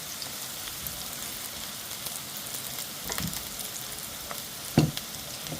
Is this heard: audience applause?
no